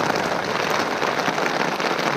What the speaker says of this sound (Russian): ветер и дождь встречные